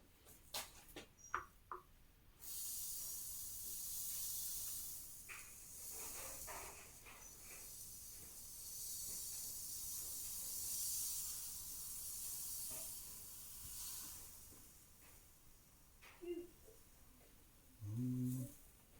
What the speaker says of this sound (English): It's raining and I got stuff hitting the roof of the garage.